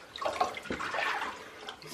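Water runs and splashes briefly into a tub during a dog's bath, a short bubbling pour at close range with no voices.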